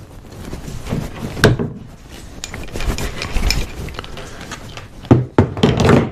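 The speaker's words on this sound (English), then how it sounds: "And then we're just going to crimp down on that" Crimping a wire rope sleeve with a hand swaging tool from a 483-piece kit: scraping and rubbing of metal, then a few sharp squeezing clunks near the end, close and fairly loud, with no speech.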